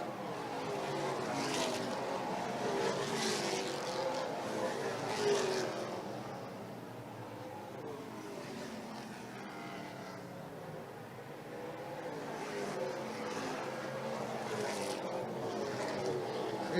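NASCAR Pinty's Series stock cars racing at Autodrome Saint-Eustache in 2019. Engines swell and fade in repeated passes, moderately distant, with a constant track-side roar between them.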